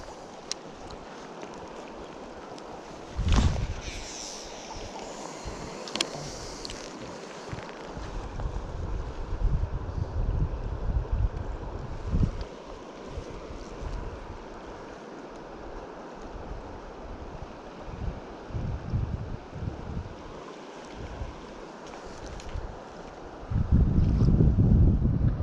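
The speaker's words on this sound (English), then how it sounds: "Wind's starting to pick up." Gusty wind buffets the microphone on a boat while steelhead fishing, rumbling in uneven bursts that swell and fade, with a strong blast near the end and water sloshing beneath.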